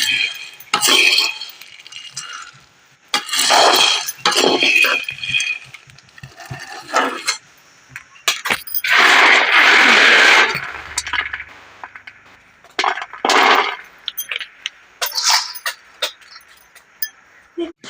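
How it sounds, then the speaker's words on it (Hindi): Wild fruit seeds dry-roasting in a kadhai over a chulha stove, stirred in bursts of near, clattering scrapes and clinks of a spatula against the metal pan, with quieter pauses between. "तो कढ़ाई रख दी है और जला दिया चूल्हा। तो अब इसको अच्छी तरह से भूनते हैं"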